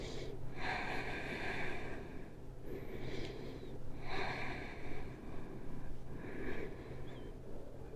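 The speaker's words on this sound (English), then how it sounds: "take 2 deep breaths" Slow, deep breaths are drawn in and pushed out in a yoga child's pose, about four airy inhale-exhale cycles, soft and close against a faint background hum.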